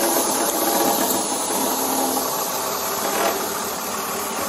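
A car engine idles with its exhaust running during a roadside police stop, producing a loud, steady, close rumble with a constant hiss and no talk over it.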